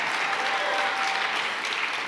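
Audience at the APA Heritage Awards 2024 giving dense, sustained applause, a steady even wash of many hands clapping at once, fairly loud with no talk over it.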